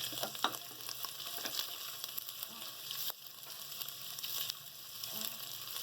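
Chopped onions sautéing in a hot pan as the base of a hot and sour soup, a close, steady sizzle and crackle of frying with occasional stirring clatter, and no talking.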